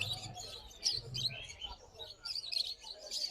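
Caged birds at a Dhaka bird market chirping in a dense, busy chorus of high twittering calls, with low murmuring background noise underneath.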